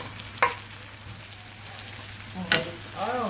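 Shrimp drop into a frying pan with peas in coconut milk and give a soft sizzle. A spoon stirs with a few clinks, and low frying noise runs underneath.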